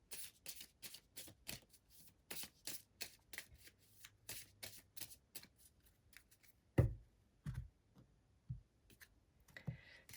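Angel cards being shuffled by hand, close and crisp, with rapid bursts of riffling and flicking in an irregular rhythm, followed by a few heavier taps and thumps as the deck is handled, with no speech.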